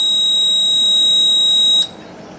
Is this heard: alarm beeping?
yes